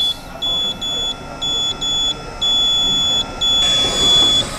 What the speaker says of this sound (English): That's the alarm for when the battery is low or the filter is clogged.